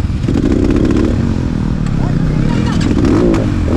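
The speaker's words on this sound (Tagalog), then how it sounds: "Mahirap na talaga mag-start ng motor." A motorcycle engine that is struggling to start revs loudly nearby at a mountaincross race, a rough, rattling drone that stays steady throughout.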